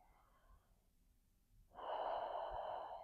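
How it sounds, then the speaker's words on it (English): During a yin yoga session, a quiet breath is followed by a deeper, louder airy inhalation that swells and holds, heard close and alone. "Taking a deep breath, breathing in and softening"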